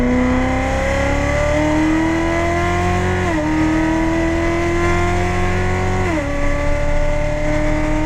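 Chevrolet Corvette C7 Z06 on a race track straight, engine pulling hard through the gears with rising pitch and two quick upshifts, loud and close with no talking.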